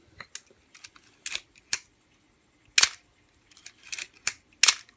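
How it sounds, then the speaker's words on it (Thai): Crisp mechanical clicks and snaps from a Canon FTb QL film camera as the shutter is wound and fired several times, in short separated bursts. "ขึ้นชัตเตอร์ทิ้งไปสัก 2-3 ที"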